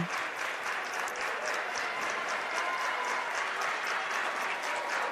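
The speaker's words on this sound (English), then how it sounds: "Coach Andrews has got the bench clapping" Players on a high school boys basketball bench clap steadily during a sectional game, a dense, continuous patter of many hands mixed with gym crowd noise, with no talk over it.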